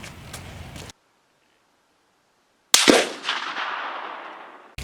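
A single sharp gunshot from a handgun fired at an outdoor shooting range cracks loud and close, followed by a long fading echo; a quieter burst of noise comes before a stretch of silence.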